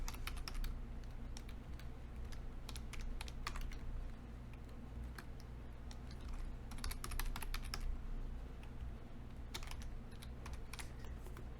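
Computer keyboard typing during Skyrim Special Edition modding work on a PC, with rapid bursts of fairly loud key clicks alternating with brief pauses over a steady low hum.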